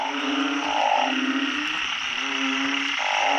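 Several frogs croak at night in a rice field, repeated short pulsing calls up close over a steady chorus of insects and more frogs.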